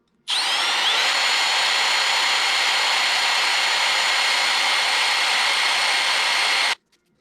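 A power sander works a Floyd Rose guitar bridge, giving a loud, steady, high-pitched whir that runs almost unbroken for about six seconds and then cuts off abruptly.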